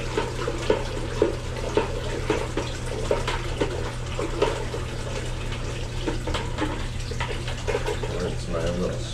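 Water is agitated in a bucket while plant nutrients for a compost tea are mixed in, giving a continuous close sloshing and running-water wash under a steady low hum, with a voice speaking over it.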